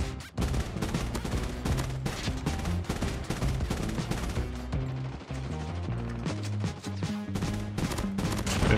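Assault rifle fire in Call of Duty Mobile, rapid bursts of shots rattling in quick succession over game music, steady and fairly loud without talk.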